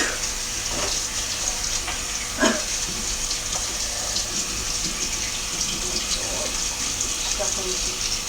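Tap water runs steadily while vent parts are rinsed during house cleaning, a broad continuous wash with small clinks and splashes and one brief louder knock near the middle.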